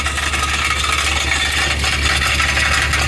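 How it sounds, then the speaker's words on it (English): A Toyota Previa idling with exhaust rattle from a loose catalytic converter element: a continuous low engine drone with a steady buzzing, metallic vibration, close and fairly loud. "I'm pretty sure that cat, this one right there, has a loose element in it. It's just vibrating around."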